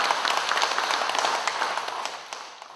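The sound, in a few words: applause in a church service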